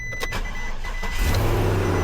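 A 2018 Isuzu NPR cab-over truck engine cranks briefly and catches, settling into a close, steady idle after about a second.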